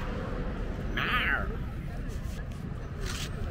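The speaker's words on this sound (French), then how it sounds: "le gros chat de la forêt" A large forest cat in Campeche, Mexico gives a single clear meow over constant outdoor background noise, followed by quieter ambient sound.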